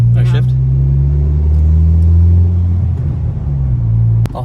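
Low, steady exhaust drone from a 2020 Honda Civic Si fitted with a MAPerformance street exhaust, pitch holding then dipping as gears shift, loud and close from inside the cabin, with a brief voice near the start.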